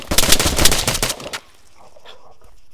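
A rapid burst of automatic gunfire in the Arma 3 video game rattles loud and close for over a second, then stops abruptly into a quiet, low background.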